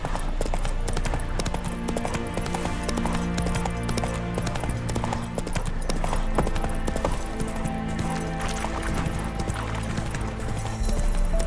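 Hooves of Roach, the horse in The Witcher 3, galloping in a rapid, steady clip-clop rhythm that runs throughout, over game music with occasional speech.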